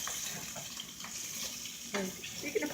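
Water runs and splashes into a cooking pan in a home kitchen, a soft continuous trickle with a couple of brief clinks and splashes near the end.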